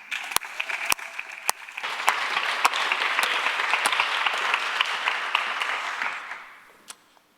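Audience applause welcoming a speaker, Aubrey, to the stage at a tech talk event, a steady wash of many hands clapping with a few sharp louder claps near the front, fading out at the end.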